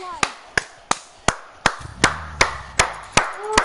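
Sharp, evenly spaced claps from a single pair of hands, about ten in a row at a steady beat, sounding close and dry, with a faint low tone under the later claps.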